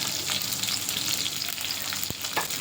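Green chilies frying in a pan for chicken fried rice, a steady close crackling sizzle with a soft stir or scrape partway through and no voices.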